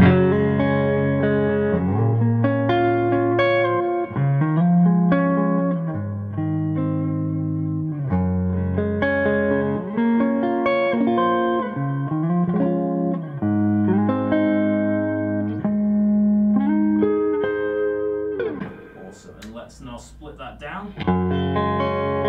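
A PRS Paul Reed Smith Modern Eagle V electric guitar played through an amp, with clean melodic chords and single notes ringing in phrases, ending in a brief scratchy strummed burst.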